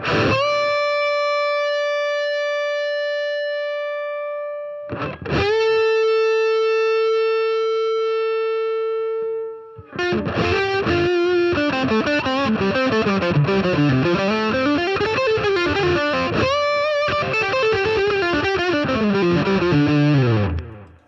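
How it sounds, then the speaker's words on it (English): Electric guitar through two stacked overdrive pedals: two long sustained distorted notes ringing out, then a loud saturated lead phrase with bends and thick sustain, no talk. "for that syrupy sustain, when you're like peaking on your lead guitar, you can do both overdrives"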